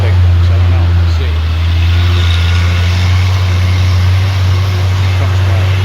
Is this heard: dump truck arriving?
yes